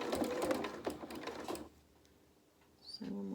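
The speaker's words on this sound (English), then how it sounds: "we're going to sew up to the corner, about 1/4 of an inch away from the corner, we're going to stop" A sewing machine runs in a quick continuous burst stitching fabric toward a corner, then stops, leaving a brief quiet pause before faint handling noises.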